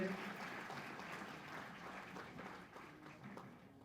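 Seminar audience at Dev Sanskriti Vishwa Vidyalaya claps together in sustained, fairly faint applause across the hall, steady without breaks.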